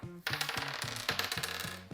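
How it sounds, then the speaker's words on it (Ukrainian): A die rolled in a board game clatters on a hard surface in a quick run of small rattling taps that fade out, close and alone. "Ми маємо ще кинути оцей кубик, який в нас, і закопати його."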